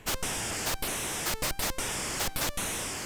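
Loud hissing white noise from a synth noise generator chopped into short bursts by quick gaps, forming an uneven stuttering rhythm.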